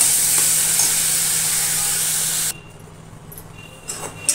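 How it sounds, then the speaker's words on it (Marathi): Small round banana pieces fry in ghee in a pan with a loud, bright sizzling hiss that cuts off partway through, leaving quieter stirring clinks and scrapes. "छान अशी ही केळी भाजलेली आहे तुपामध्ये, छान सुगंध सुटलेला आहे"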